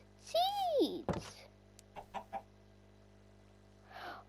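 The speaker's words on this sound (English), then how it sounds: "Hold on, can I tame this chicken?" A chicken in a video game gives a rising-falling squawk near the start, then a few short clucks, with a faint squawk again at the end and quiet between.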